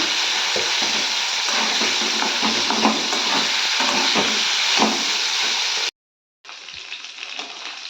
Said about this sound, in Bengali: করলা আর আলুটা আমি ভাজতে দিয়ে দিয়েছি